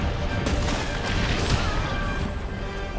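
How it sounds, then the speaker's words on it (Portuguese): A lava shot strikes the player character in Monster Hunter World during the Zorah Magdaros fight, a dense roaring burst of crashing, explosive game effects that fills the whole moment at a loud, steady level. "Agora eu tomei um tiro de lava aí, né?"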